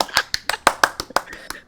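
A small group at a tabletop role-playing session gives a player a round of applause: sparse, distinct handclaps spaced about every tenth of a second, close by and fairly loud.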